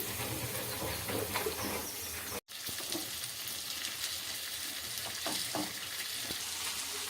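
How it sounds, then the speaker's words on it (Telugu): Grated cabbage sizzling in a pan for a cabbage fry, with a continuous crackling hiss and occasional scraping stirs, heard close up with no talking. "ఇప్పుడు ఇలా వేపుకున్నాక మనం కట్ చేసుకున్న క్యాబేజీ తురుము వేసుకుందామండి"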